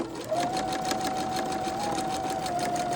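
A sewing machine stitches a quilt block for a star pattern, a steady, fast mechanical whir with a faint high whine, running evenly and close with no talk.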